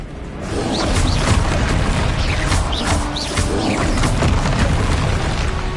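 Bombarda blasting spell going off in Hogwarts Legacy on hard difficulty, a loud, continuous barrage of booming explosions and crashing impacts with whooshing spell effects layered over dense battle noise.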